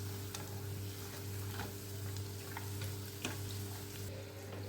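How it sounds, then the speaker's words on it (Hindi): Cream roll frying in a pan, turned over and over so it browns on all sides, giving a steady quiet sizzle with occasional soft ticks and stirring clicks, with a low hum beneath. "इसी तरह से हम इसे उलट पुलट करते हुए चारों ओर अच्छे से हम इसे सेक लेंगे"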